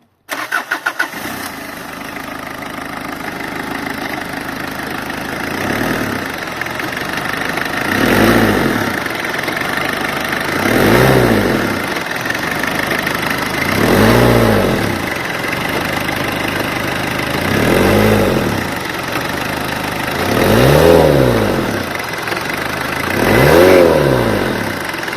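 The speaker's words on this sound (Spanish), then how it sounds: "obviamente es un motor diésel de vieja escuela y suena bastante," An old 1986 Citroën BX TRD diesel engine cranks and starts from cold, then idles with a rough clatter, rising in several slow revs that swell and fade, loud and close.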